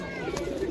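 A pigeon at the Dankuni market bird sale gives a short, close cooing call, with soft market chatter in the background.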